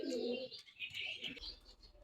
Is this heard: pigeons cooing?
yes